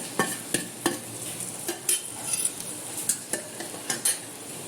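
Fried mango pieces being stirred into a spiced pickle masala in a pan for a homemade Kerala mango pickle, giving repeated scraping spoon strokes against the pan with a soft sizzle, close and fairly quiet, no talking.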